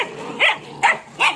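Belgian Malinois puppies let out three short, close yips and barks in quick succession, with a faint whimpering tone between them.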